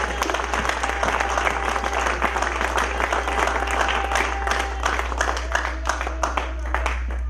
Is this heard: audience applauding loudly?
yes